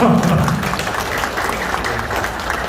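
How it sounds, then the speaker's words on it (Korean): A crowd at a Gumi chamber of commerce New Year gathering and awards ceremony applauds in a sustained, even wash of clapping, fairly loud, with a brief murmur of voices at the start. "박수 치십시오"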